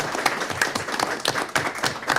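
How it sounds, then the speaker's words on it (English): An audience at a county board of commissioners meeting applauds, a close, lively patter of clapping with uneven accents, sustained throughout. "Let's give them a round of applause."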